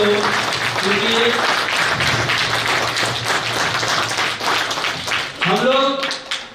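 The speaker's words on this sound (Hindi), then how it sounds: "ताली की गड़गड़ाहट थोड़ा जोर से हो" An audience at a Seva Bharati Jammu Kashmir gathering breaks into loud, sustained applause that fills the room, with someone speaking over the clapping.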